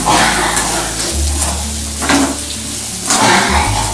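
Elephant yam (karunai kilangu) pieces fry in oil in a pan, a steady close crackling sizzle with occasional stirring scrapes and pan clatter.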